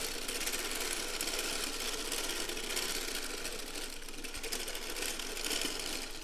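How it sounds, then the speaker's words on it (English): A circular sock knitting machine being hand-cranked, a continuous fast mechanical clattering whir at even rhythm, close and fairly quiet, with no talking. "I'm going to crank a few more rows just to make sure everything is set up like I'd like."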